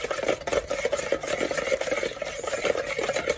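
Pancake batter with vanilla essence, baking powder, milk and egg being mixed in a bowl, a close, rhythmic whisking and scraping that continues steadily with no voices.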